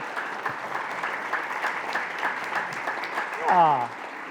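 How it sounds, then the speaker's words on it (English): Audience applause at an outdoor park concert by a brass band, a sustained wash of clapping from a crowd, with a voice rising briefly near the end. "let's hear another round of applause for Trent."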